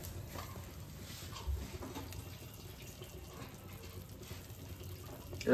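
A little water is poured into a butter garlic chicken sauce, a white-sauce type thickened with a pinch of flour, cooking on a low flame. The pour is a soft, steady trickle and splash, fairly faint, with no voices.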